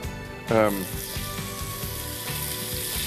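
Diced button mushrooms dropped into a hot pan with cooked new potatoes, a sudden loud sizzle burst followed by steady frying crackle and hiss up close, with faint talk underneath.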